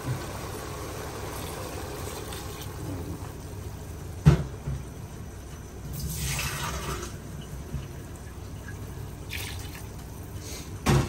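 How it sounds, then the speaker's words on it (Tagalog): Water pours into a pot of pork estofado in a couple of short bursts, with a sizzling splash, between clanks of cookware against a low background hum. "lagyan na natin ng tubig"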